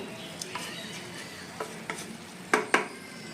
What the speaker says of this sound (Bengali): না লেগে যায় তার জন্য নেড়ে দিবেন, না হলে মাংসটা কিন্তু নিচে লেগে যাওয়ার একটা সম্ভাবনা সবসময় থেকে যায়।